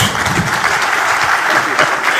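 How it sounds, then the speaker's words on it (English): Steady applause from an audience at a Kenyan government event launching the Open Government Partnership plan, with President Ruto present, loud and continuous throughout without pause. "Let's give them one more round of applause."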